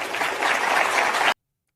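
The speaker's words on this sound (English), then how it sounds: "Clapping." A crowd's hands clap in a dense, steady burst of applause that stays loud for just over a second and then cuts off abruptly into silence.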